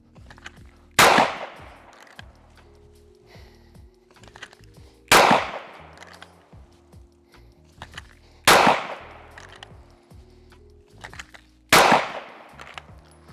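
Four sharp, loud gunshots ring out at shooting targets, spaced a few seconds apart, with quiet handling sounds and faint clicks in between.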